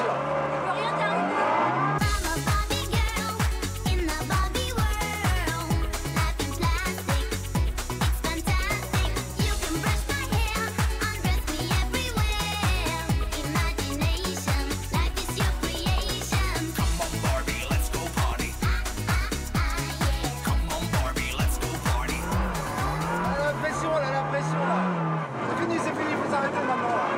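A car driven hard around a small race circuit, its engine droning and revving continuously at close range with loud, busy mechanical roar, while voices talk over it.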